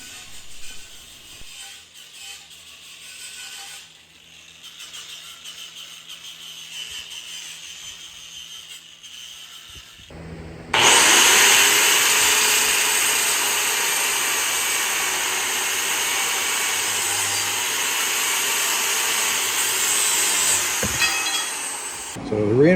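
A large angle grinder cuts metal for a weld cart in a woodworking shop, starting abruptly after quieter workshop sounds and then whining loudly and steadily for about twelve seconds before cutting off.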